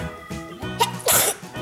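A single close sneeze bursts out sharply, preceded by a brief breathy intake and followed by quieter throat sounds.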